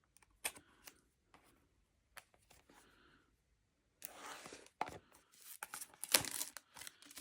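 A hobby knife slices open the packaging of a Mugen MSB1 1/10 scale 2WD RC buggy kit. Quiet scattered cuts and tearing come first, then louder crinkling and ripping of plastic and cardboard, up close.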